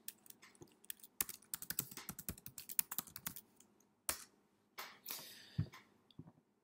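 Computer keyboard typing as a line of text is entered, with quick runs of clicking keystrokes broken by short pauses and a few heavier key presses near the end. A brief voice is heard at the start.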